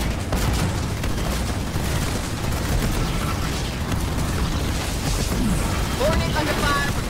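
Gunfire from ground troops in Halo Wars 2 crackles in dense, continuous bursts mixed with booms, loud and close, under a constant roar of battle noise with brief electronic chirps.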